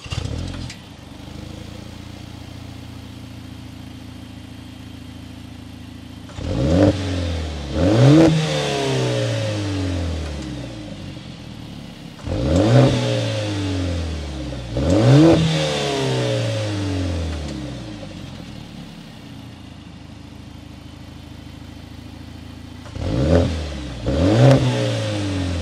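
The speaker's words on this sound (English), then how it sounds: "Let's go inside and hear that exhaust now." A Mercedes-AMG GLA45 SUV's turbo engine revs hard three times, roaring up then falling back to a rumbling idle between bursts, heard from inside the cabin.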